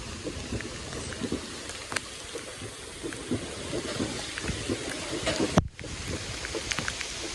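Heavy rain pours down during a mountain coaster ride, a dense steady hiss with scattered louder drops and a sharp break near the end.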